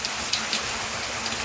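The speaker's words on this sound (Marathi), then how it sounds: "पाऊस आहे तर पावसाचा आवाज येईल." Rain falls steadily in a continuous soft patter with a few slightly louder drops, heard close by and alone.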